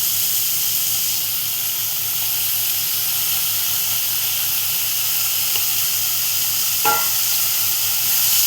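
Chana dal hitting a hot pan with greens for a village-style korla vegetable dish, giving a steady broadband sizzle throughout with a brief sharper crackle near the end, close and fairly loud, no talking.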